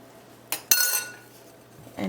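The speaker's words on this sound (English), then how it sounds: "and give it a stir" Tapioca pearls (sagoo) stirred in a pot of water with green food colouring: a couple of sharp spoon-on-pot clinks and scrapes, close and fairly loud, then a quiet pause before another clatter at the end.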